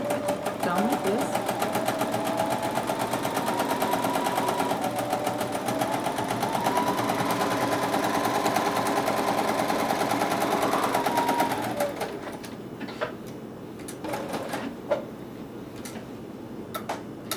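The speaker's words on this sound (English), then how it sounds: "Nice thing about the Bernina, it starts and stops and knots it at the front, and I'm just back stitching on the end" Bernina sewing machine running steadily while stitching fabric strips, a continuous rapid ticking hum for about twelve seconds before it stops, leaving a few short clicks and quieter handling sounds.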